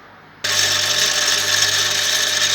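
A lathe suddenly starts up while turning a bolt for a Honda CR250 power valve, switching from near quiet to a loud, steady, close whir with a bright metallic edge.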